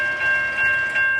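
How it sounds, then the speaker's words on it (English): An NJ Transit commuter train running from Suffern to Hoboken passes close by, its loud, steady rumble carrying a sustained high tone and a rhythmic pulse of wheels over the rail joints. "here comes train 1116 from Suffern to Hoboken"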